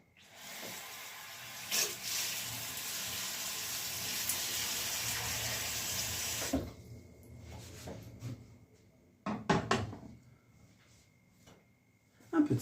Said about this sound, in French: On va mettre par-dessus l'eau.